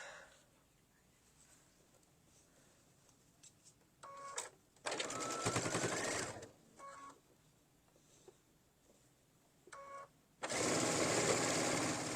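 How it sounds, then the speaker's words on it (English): A sewing machine stitching rows of quilt blocks together, running in a few bursts of rapid whirring, with short pauses and soft clicks between the runs and a long final run. "So we're going to stitch these rows together."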